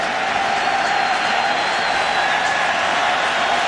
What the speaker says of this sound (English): Here comes that crowd.